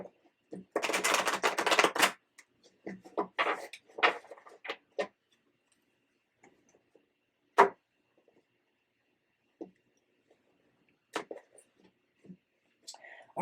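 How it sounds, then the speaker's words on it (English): Tarot cards are shuffled by hand in short, soft riffling bursts and taps, close and quiet, with whispery rustles spaced out among longer silences. "I'll give you one more shuffle."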